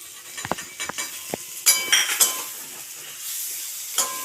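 Chopped nuts sizzle and crackle in hot oil in a pan while being stirred, with clinks of a spoon against the pan, part of cooking a pointed gourd (potol) curry; close, steady frying hiss with intermittent scraping knocks.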